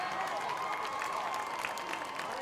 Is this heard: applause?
yes